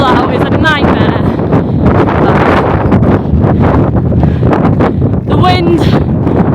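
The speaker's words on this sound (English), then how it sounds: "The wind still here. I think it's only going to get worse" Strong wind roars and buffets the microphone on a rugged mountain in the Cairngorms in Scotland, a loud and unbroken rush with gusty flutter, while a person talks through it.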